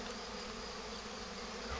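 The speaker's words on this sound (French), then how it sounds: "il y a des abeilles là qui sont en train de s'entasser là" A honeybee swarm settling and clustering outdoors during a swarm capture, a steady dense buzzing hum from many bees, close and continuous with no voices.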